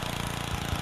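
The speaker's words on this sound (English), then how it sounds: "Oh my god, this lawnmower works." A lawn mower engine in the video game Happy Wheels runs with a steady, buzzing mid-range drone, heard alone for a brief moment.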